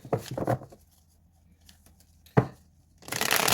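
Hands shuffle a deck of playing cards: two quick riffles up front, a sharp card snap midway, and a longer dense riffle at the end, close and clear with no speech.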